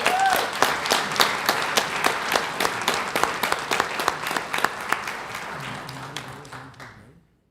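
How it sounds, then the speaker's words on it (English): A room of attendees at a school district board meeting claps steadily for several seconds, a dense, fairly close round of applause that tapers off and stops abruptly near the end, with faint murmuring underneath. "Can we have a round of applause for Daniel?"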